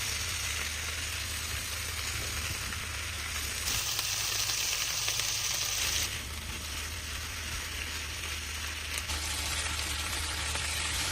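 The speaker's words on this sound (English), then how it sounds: "Leave some oil in the pan over medium-high heat. Add the cabbage." Cabbage sizzles and fries steadily in hot oil in a pan over medium-high heat, a dense continuous hiss with brief shifts in intensity as it cooks, heard alone with no voices.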